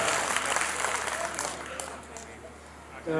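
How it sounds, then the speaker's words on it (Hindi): Sustained applause from a large audience at a Hindi poetry gathering, a dense wash of clapping that holds steady and eases slightly toward the end. "दोनों हाथ ऊपर उठाकर तालियों की गड़गड़ाहट करके बताइए"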